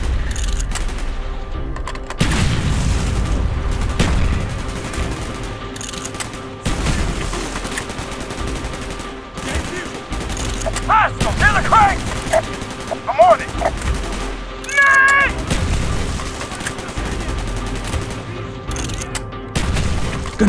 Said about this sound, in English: Gunfire's drawing attention.